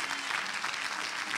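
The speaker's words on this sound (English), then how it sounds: "Clap your hands for Jesus." A church congregation claps their hands during a prayer and prophetic service, a brief, dense and fairly quiet burst of applause with no voices on top.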